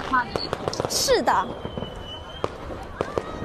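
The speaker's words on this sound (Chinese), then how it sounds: "带你们看烟花。" New Year fireworks in Sanya pop and crackle at a distance, with scattered sharp bangs and a whistling rise, mostly under nearby people talking.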